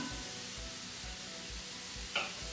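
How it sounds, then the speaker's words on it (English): Onions sizzle steadily in a pan while being stirred for a cottage pie base, with soft rhythmic thumps and one brief scrape of the utensil; moderately quiet, no voices. "I'm just going to start stirring my onions"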